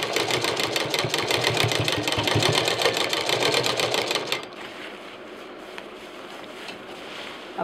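A sewing machine runs a fast, even stitch along backpack fabric, loud and close, for about four seconds and then stops, leaving quiet room noise.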